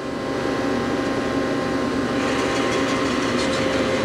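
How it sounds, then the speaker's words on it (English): A Hardinge Conquest T-42 big-bore CNC slant-bed lathe runs its live tool, giving a steady, loud, dense machine whir and hum with no break over the whole stretch. "All right, now we're gonna run the live tool."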